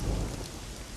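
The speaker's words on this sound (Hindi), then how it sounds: "अच्छा हुआ हम लोग जल्दी घर में आ गए, अगर बारिश से भीग जाते तो हालत ही खस्ता हो जाती।" Heavy rain falling outside during a thunderstorm, a dense steady roar with deep low rumble, loud and continuous through the whole second with no voices.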